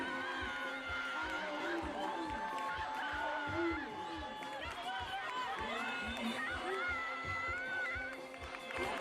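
Crowd at a local rugby derby between Grabouw RFC and Safcol RFC in the Boland Grand Challenge, a steady roar of cheering and chatter with shrill whistles and calls rising above it throughout, under a commentator's voice.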